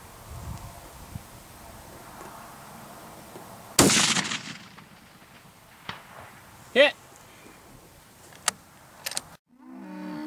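A Desert Tactical .308 rifle fires a Remington Core-Lokt round at a steel gong 525 yards away on an outdoor range. One sharp, loud crack rings out, and a faint, distant metallic ping follows about three seconds later, among small handling knocks.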